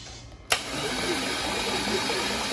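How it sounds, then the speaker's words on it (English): A 1998 Trans Am Formula V8, fresh engine, is turned over on a starter wired to a remote switch; an abrupt click opens a steady, loud, droning crank that runs on unbroken without firing. "crank it over a few times, let the lifters prime up, and get oil to the top"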